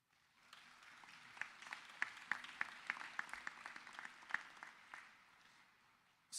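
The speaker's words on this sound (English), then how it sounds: "Please give yourself a round of applause." Graduates at a spring commencement ceremony applaud themselves, moderately faint clapping with sharp individual claps standing out, rising, holding steady and then tapering off.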